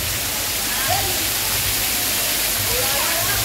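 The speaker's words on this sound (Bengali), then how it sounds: "তো ঝর্ণার মধ্যে আছে এখানে, এখানে সবাই চান করছে দেখতে পাচ্ছ" An artificial waterfall at a water park, where people are bathing under it, gives a constant rushing roar of falling water. Faint crowd voices blend into the steady wash.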